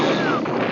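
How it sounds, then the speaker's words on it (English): Cartoon cannons, five of them aimed at each other, go off in one loud, short blast that fills the sound with a dense roar and a falling whistle. "Unfortunately for Boris, he had aimed all 5 cannons right at each other"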